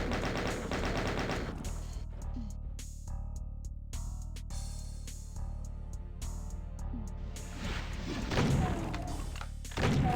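Chaingunner enemies firing in the Doom video game: rapid bursts of machine-gun fire in rattling volleys, mixed with thuds and crashes of combat, fairly loud and continuous over about ten seconds.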